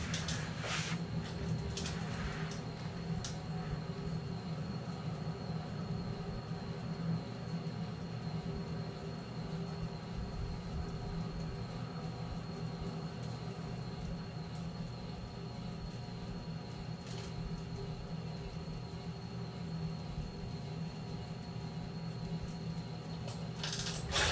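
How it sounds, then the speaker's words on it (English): Model trains rumble steadily along the track for a long stretch, with low mechanical humming and occasional light clicks and rattles, no voices. "I'm going to sit back and watch my trains with you."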